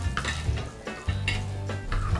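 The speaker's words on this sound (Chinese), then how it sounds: "蒜片先爆香" Garlic slices frying in hot oil in a wok crackle and sizzle up close, broken by a few rhythmic stirring and scraping strokes against the pan.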